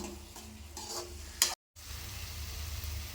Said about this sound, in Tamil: இது நல்லா கலந்து விட்டுட்டு இது நல்லா எண்ணெய் பிரிஞ்சு வரட்டும்.